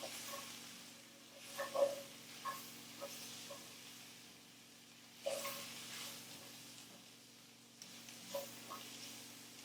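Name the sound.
stirring sizzling onions in a pan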